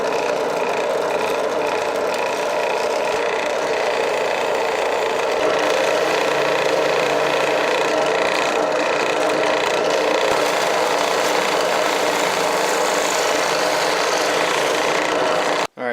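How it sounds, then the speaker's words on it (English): A Harbor Freight drill press cuts circles into wood, a steady loud whirring grind that holds evenly for the whole stretch and stops abruptly at the end, with no talking. "head over to our Harbor Freight drill press and go ahead and cut these circle bounds"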